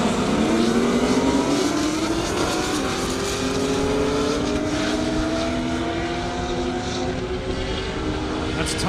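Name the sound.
200+ mph drag race cars accelerating at airstrip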